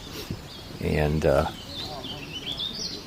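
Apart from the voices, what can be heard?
prothonotary warbler singing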